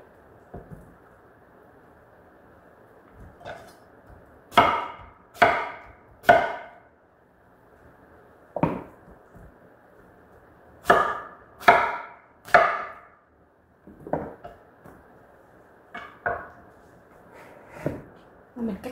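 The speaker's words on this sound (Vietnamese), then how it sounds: "Mình cắt như vậy để luộc bầu." Knife chopping through a bottle gourd on a board, a run of crisp, close blows in uneven bursts of two and three with short pauses between, quiet room otherwise.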